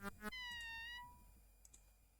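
A cat in the video game Conquests of the Longbow gives one clear, drawn-out meow that falls in pitch and fades into near silence.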